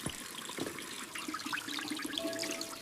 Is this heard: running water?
yes